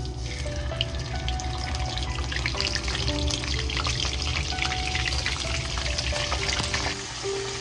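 A whole fish frying in a small pan, sizzling steadily and close by, with a continuous crackling hiss and no talking.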